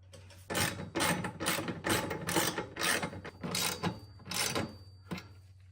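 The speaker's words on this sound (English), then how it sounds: "we're just gonna ratchet it through just to make sure it goes all the way in" Ratchet tightens a subframe brace bolt on an Acura RSX Type S, giving about eight quick bursts of clicking at a steady rhythm with short pauses between strokes, close and fairly loud, no voices.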